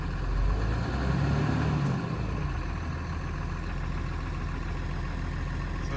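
A 2006 Cummins 6.0 diesel truck engine revs up as the throttle is pressed, a loud low rumble swelling in the first two seconds then settling back to a steady idle drone.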